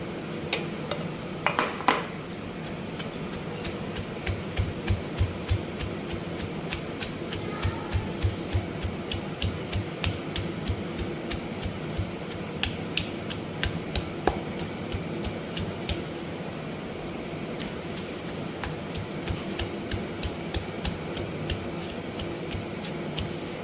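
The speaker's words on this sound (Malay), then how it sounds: "Kalau kita guna lesung, kita tumbuk bahan-bahan ni guna lesung." Ginger, garlic and onion are pounded in a mortar for chicken rice, producing a long run of evenly spaced, sharp knocking strikes over a low steady background hum.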